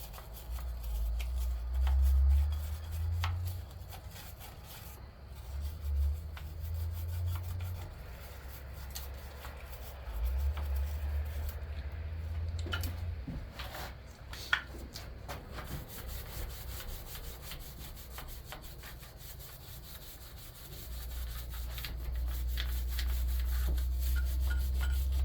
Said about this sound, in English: Now about 15-20 minutes worth of scrubbing on one and I'm done.